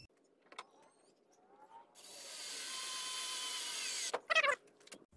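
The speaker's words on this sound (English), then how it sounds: "we're going to use a couple of wood screws on each side to screw the inside sandwich plate" A power drill drives one-inch wood screws through an inside sandwich plate into a travel trailer's interior window frame, with a sustained whir lasting about two seconds and a couple of short bursts at the end after scattered soft clicks.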